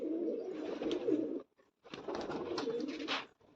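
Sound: pigeon cooing

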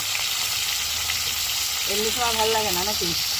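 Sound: chicken pieces added one by one to frying pan

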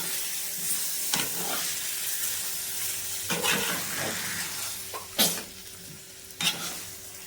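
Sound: stirring masala into frying chops in a pan

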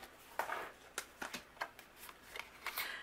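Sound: A2 card base running through a die cut machine

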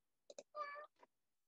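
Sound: cat meowing

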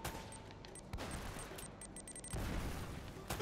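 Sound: gunfire in the Uncharted video game

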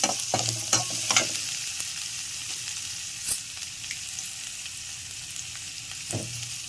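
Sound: tempering frying and stirring in pan with turmeric

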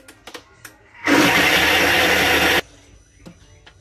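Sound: Thermomix blending gazpacho at speed 10

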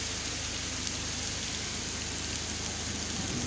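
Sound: rain falling

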